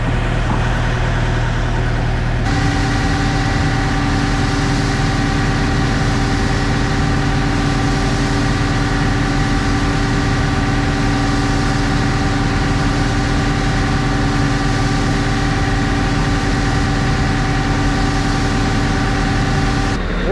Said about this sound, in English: let's get our grout mixed up